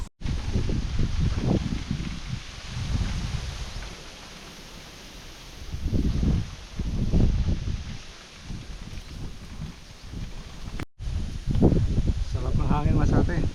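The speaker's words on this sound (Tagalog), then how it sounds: "Sarap na ihip ng hangin." Wind gusts through leaves on a vegetable farm growing eggplant and tomatoes, a steady rustling hiss that swells and fades in waves, with people's voices partly under it.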